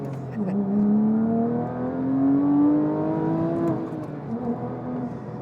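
A Porsche 911 997 GT3 engine revs up steadily while driving, its pitch climbing for several seconds before easing off, loud and close from inside the car.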